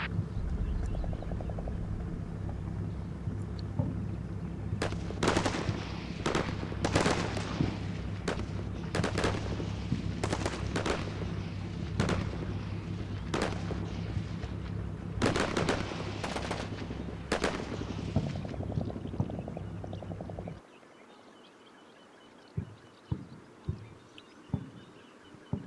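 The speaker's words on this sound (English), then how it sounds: "So now what I'm doing is calling in another howitzer fire mission." Howitzer artillery fire mission in the video game Combat Mission Shock Force, a long stretch of rapid booming reports and bursts over a steady low rumble, ending in quieter scattered distant thuds.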